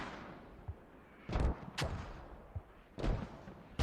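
Mortar rounds fire during a competitive multiplayer war game match, a few dull distant thumps and booms spaced irregularly, fairly faint and low in level.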